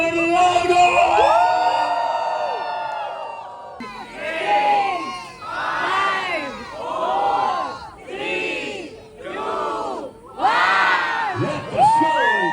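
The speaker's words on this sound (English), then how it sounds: "Can I hear you guys scream a little louder?" Wedding guests scream and cheer loudly in waves, a dense crowd of excited voices rising in repeated bursts of whoops and shouts close by.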